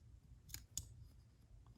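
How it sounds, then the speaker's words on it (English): Leatherman Charge+ G10 multitool scissors snip through a shirt in two quick, faint clicks close by, against a quiet room background. "let me just like cut this shirt"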